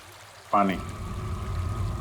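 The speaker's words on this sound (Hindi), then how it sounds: "पानी की आवाज लगती है।" Water begins pouring or streaming suddenly, a steady liquid rush that continues under a low background hum.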